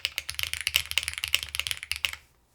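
Fast typing on a mechanical keyboard with Cherry linear switches, a quick, even patter of soft clacking keystrokes heard up close for about two seconds with no talk.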